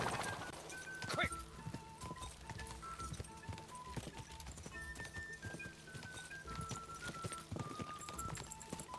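Horse galloping in the Kingdom Come Deliverance 2 video game, rapid, irregular clip-clop hoofbeats close by under game music, with short whinnies mixed in.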